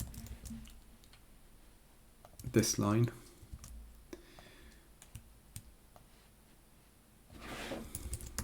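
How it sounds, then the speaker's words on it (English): A computer keyboard typed on in short clicking bursts, faint and close, with someone talking quietly over part of it. "Man, keyboard"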